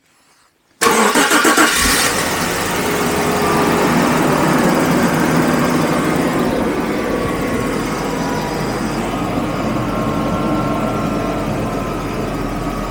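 A broken 1980s Jaguar engine cranks briefly and catches, then settles into a loud, steady running drone that carries on close by for several seconds.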